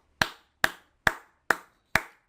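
Five single, sharp hand claps from one person, evenly spaced about half a second apart, close and crisp with silence between them.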